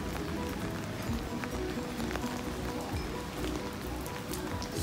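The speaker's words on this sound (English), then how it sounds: "Still raining." Steady rain pattering on the pavement of a narrow Amsterdam alley, a dense, even hiss with scattered drops close by, continuous and fairly loud.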